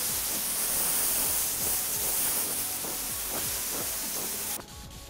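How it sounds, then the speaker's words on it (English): A spray gun or airbrush hisses in a steady continuous stream while painting a fishing lure with a scale pattern over glitter, then cuts off abruptly near the end. "I'm gonna spray over all the sharp lines of where the tape was."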